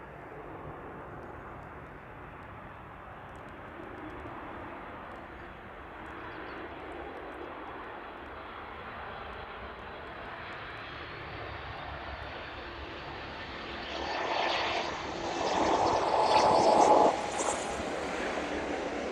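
A fixed-wing airliner lands on runway 09 at East Midlands Airport in the evening, its steady engine roar rumbling throughout and swelling louder near the end as the aircraft passes close.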